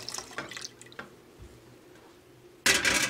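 Liquid poured into an Instant Pot while making yogurt: a few soft taps and clicks, then a sudden loud, steady splashing pour that fills the final half second.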